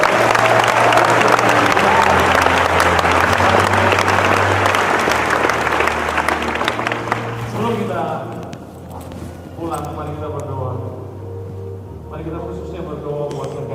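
Church congregation applauding loudly at the close of a sermon, a dense wash of clapping that thins out partway through as a voice and music come up underneath.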